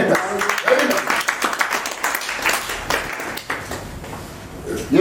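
A seminar audience breaks into loud, steady applause, dense overlapping claps filling the room for the full stretch with voices mixed in underneath.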